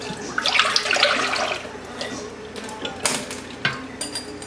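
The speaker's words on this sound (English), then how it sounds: "So we're going to pour this in the pot" A coconut milk custard mixture with cornstarch, sugar and salt is poured into a pot, giving a brief splashing gush followed by a few light clinks of kitchenware.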